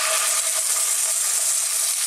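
Garlic ginger paste hits a hot pan for an Indian potato curry, producing a loud, steady, hissing sizzle that carries on without break and with no talking.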